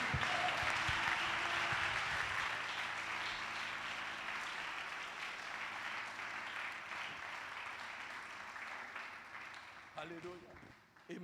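A church congregation applauding in a sustained wash of clapping and cheering that slowly fades over several seconds, with voices audible in the crowd.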